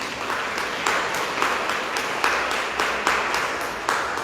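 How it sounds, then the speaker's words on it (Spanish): A church congregation bursts into sustained audience applause, steady, dense clapping with regular swells, heard close and without talk over it. "Vamos a darle un fuerte aplauso a Jesucristo."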